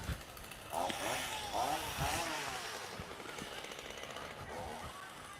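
A small gas engine buzzes and revs in the distance, rising in bursts then settling into a rough, steady drone.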